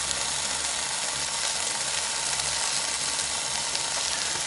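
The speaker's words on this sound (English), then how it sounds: "And then I break the yolk while it's cooking." An egg frying in a pan on a camp stove in a van, a steady loud sizzle that runs unbroken throughout with no voices.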